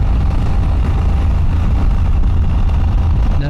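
Royal Enfield Himalayan 411 motorcycle ridden over dreadful, rough roads, its engine a loud, steady low rumble running throughout with constant road and wind noise, no voices.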